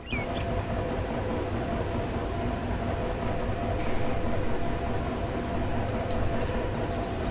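A simulated train running in Trainz Railroad Simulator 2019 on a Central European route: a steady, continuous low rumble of the locomotive and wagons, loud and unbroken throughout, with no talking.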